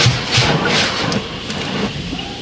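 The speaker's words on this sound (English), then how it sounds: "Right now this truck is getting washed." At a truck wash, strong jets of water spray against a truck while heard from inside the cab, making a loud rushing hiss that surges in waves and then eases slightly.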